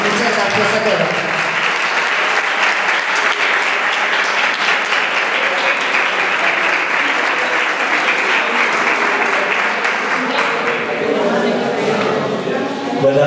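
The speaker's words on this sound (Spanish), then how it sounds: "yo quisiera que vayan un aplauso muy grande tanto a Michelle como a Lucía" Loud, sustained applause from an audience at the opening of a photography exhibition in Bobadilla station, steady dense clapping throughout, with voices emerging near the end.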